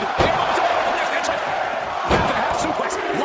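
A wrestling arena crowd roars and cheers throughout, a dense wash of noise broken by a couple of sharp slam-like impacts, while a commentator talks over it.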